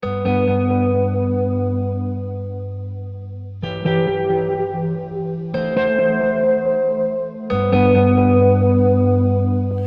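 Four strummed guitar chords ring out in turn, each sustained for a couple of seconds, thick with chorus, distortion and echo.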